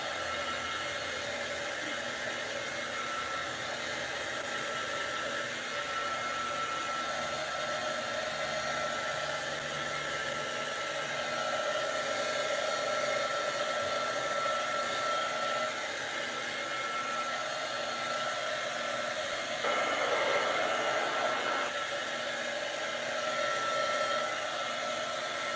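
Handheld heat tool blowing hot air to melt embossing powder on a craft project, a loud continuous fan whine and rushing hiss running steadily throughout, with slight shifts in tone as the tool moves and no talk.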